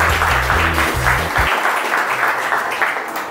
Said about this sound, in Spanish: Un aplauso para el señor Franco Bonilla